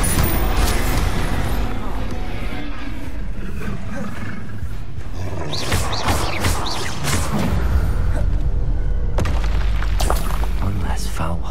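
In Hogwarts Legacy combat, a Bombarda spell sets off booming explosive blasts and rumbling roars that stay loud and dense throughout, with a spoken voice and other spell casting mixed in.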